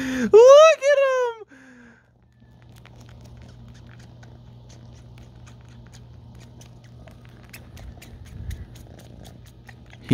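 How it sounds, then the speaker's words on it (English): A small kitten purrs while suckling, with a low, steady, close-up rumble that runs on after a brief loud vocal cry at the start. "You can hear him purring."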